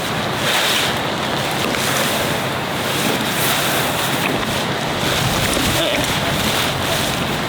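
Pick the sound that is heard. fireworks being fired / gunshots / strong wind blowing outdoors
strong wind blowing outdoors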